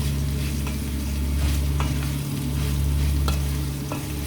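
Rice is stir-fried in a pan on a turned-down stove and has gone sticky and clumpy. A dense, steady sizzle runs over a low constant hum, broken by occasional scraping stir strokes, close and loud with no talking.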